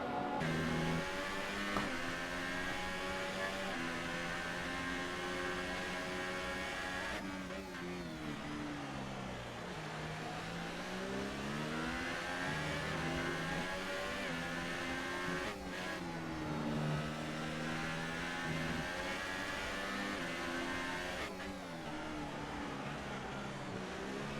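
Formula 1 cars in the F1 2018 video game, Bahrain Grand Prix, give a continuous high-pitched engine whine that rises and falls through gear changes, steady and loud throughout, with no talk.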